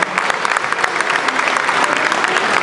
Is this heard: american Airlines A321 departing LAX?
no